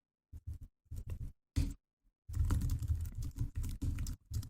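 Bursts of typing on a computer keyboard while entering code: short clustered clicks at first, then a longer run of rapid, close keystrokes, all near and clear with no talking.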